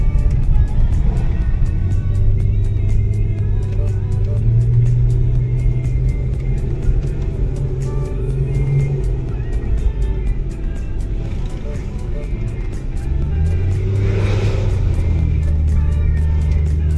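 A Hyundai Santa Fe engine runs smoothly on the road after repair and diagnosis, a steady low rumble that holds throughout with slight rises in revs. Voices talk faintly over it.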